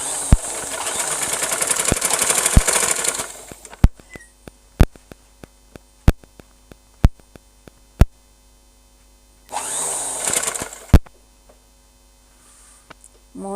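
An electric sewing machine stitches a long cotton frock in two bursts of fast, even whirring, separated by a quiet pause filled with sharp clicks and taps of fabric handling, with a low mains hum underneath.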